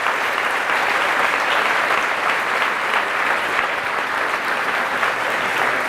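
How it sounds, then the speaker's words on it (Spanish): A church congregation gives loud, sustained applause during a Catholic service, a thick even roar of many hands clapping together without pause, close and full for the whole stretch. "Fuertes aplausos al Rey de Reyes y Señor de Señores"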